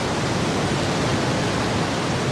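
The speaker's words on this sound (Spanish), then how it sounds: "El río era salvaje y turbulento cuando Claudia llegó a la ribera" A wild, turbulent river rushes in a dense, unbroken roar of churning water, loud and continuous with no voices.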